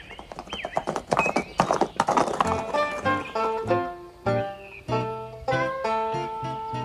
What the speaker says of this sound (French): Tiens, il s'est monté à cheval maintenant.